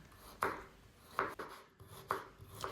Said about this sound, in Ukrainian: Беру 4 середніх морквини та нарізаю колечками